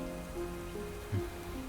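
Steady rain falling, a soft continuous patter of drops under a faint tonal hum, with one brief louder knock partway through; no voices.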